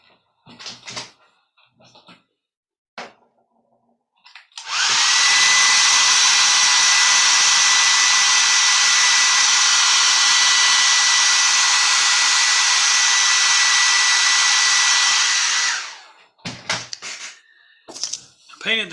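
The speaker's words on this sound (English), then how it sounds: "hair dryer for about 10 seconds." A hair dryer blows loudly and steadily for about ten seconds, framed by clattering handling noises before and after.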